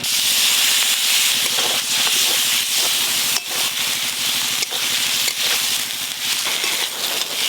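Spice paste of chilli and green chilli with a little turmeric and water being fried with potatoes, giving a steady loud hiss and sizzle throughout with faint scraping, no talk.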